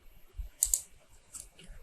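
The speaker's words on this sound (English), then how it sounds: "Press Tab key from the keyboard." A computer keyboard's Tab key is pressed while indenting text in MS Word 2013 on Windows 10, giving a couple of quick, crisp clicks close up among faint, scattered keyboard taps in a quiet room.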